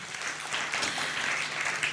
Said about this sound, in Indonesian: Tepuk tangan biar makin semangat dong